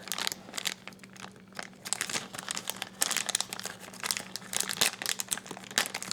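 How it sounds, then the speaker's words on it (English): Close-up crinkling and crackling of plastic packaging being pulled and torn open, steady bursts of rustle with no talking. "open this package and be careful not to cut the paper that's inside"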